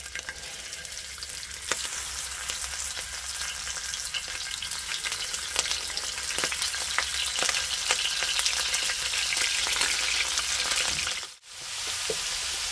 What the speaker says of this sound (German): So, dann werden wir langsam mal unsere Garnelen reinziehen.